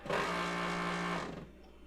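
A Ditto Max tape backup drive in an upgraded IBM PS/2 Model 30 spins up with a loud, steady mechanical whir and hum for about a second before winding down, close and alone.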